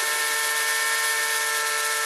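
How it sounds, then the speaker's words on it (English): A small power drill with a thin wire bit bores through a handmade long wooden pipe stem, giving a close, steady high-pitched whine with fixed tones and no speech. "Let the drill do the work."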